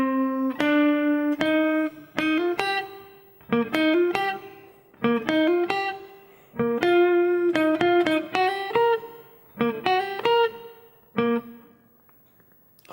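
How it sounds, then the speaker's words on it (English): Clean electric guitar run through a fast chorus effect, playing a melodic solo line of short picked notes and brief phrases with small gaps, ending on a fading held note. "You will notice we're using a clean sound with a chorus, with the speed of the chorus set quite fast."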